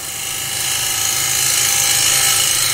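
A wood lathe spinning at about 1500-1600 RPM while facing off a plate blank, giving a steady, loud broadband whir with a hissing cutting noise that holds constant throughout, no voices.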